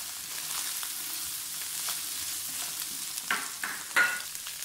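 Chicken mince frying in a pan for egg fried macaroni, with a soft steady sizzle and a few louder scrapes of a spatula near the end, no talking.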